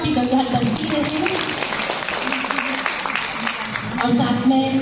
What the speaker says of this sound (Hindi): जोरदार तालियां इतनी सुंदर इतनी मधुर वाणी के लिए